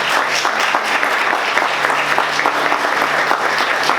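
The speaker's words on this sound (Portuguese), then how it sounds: "Aplauda Jesus com alegria bem forte" A church congregation claps loudly and continuously, dense overlapping hand claps filling the room at close range for the whole stretch, with a faint hum underneath.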